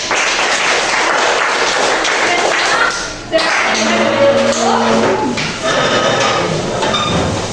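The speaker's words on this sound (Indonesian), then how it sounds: "tepuk tangan lagi untuk kita semua" A group claps and cheers in a lively burst during a classroom lesson, continuing for several seconds, mixed with thumps and voices talking over it.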